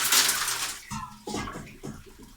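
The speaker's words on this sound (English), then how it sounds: "we're going to pour out our ice bath" Ice bath water poured out of a container during soap making, a short gurgling splash into a sink or basin with a few sloshing glugs, close and fairly loud, with no talk.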